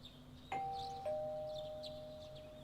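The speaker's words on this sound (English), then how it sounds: "You hear the doorbell ringing." Two clean electronic doorbell chimes from the video game Persona 4 Golden ring out in succession, bright and sustained, each tone fading slowly over a quiet ambient background.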